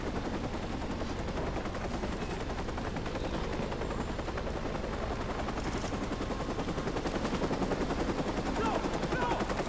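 In the Watch Dogs video game, a helicopter's steady, loud rotor roar fills the scene while rapid bursts of gunfire crackle continuously on top of it.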